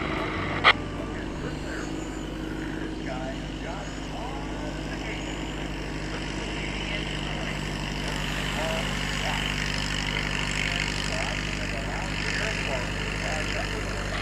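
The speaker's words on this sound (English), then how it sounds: "Cub taxiing out, taxiing onto the runway up to the start line" A Carbon Cub airplane taxis onto the runway at a STOL expo, its engine giving a steady droning hum with a single sharp click near the start. The scene is busy with ambient noise and there is some talk.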